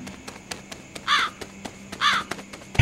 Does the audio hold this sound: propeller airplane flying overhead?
no